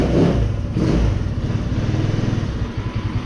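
A scooter engine, which had trouble accelerating fully, starts for the first time and is given a little throttle, giving a loud close rumbling rev that settles into a pulsing putter.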